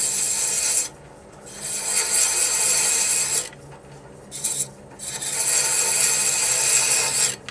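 A wood lathe tool rubs against spinning wood while threads are cut, making a steady, bright rasping hiss that drops away briefly at a few moments and then resumes, close and continuous.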